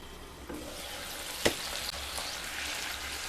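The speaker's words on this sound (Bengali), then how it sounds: "জল দিয়ে মশলাগুলোকে খুব ভালো করে সেদ্ধ করে নেব" Spices simmer in water in a pan on a gas flame, a steady soft bubbling hiss broken by a single sharp clink partway through.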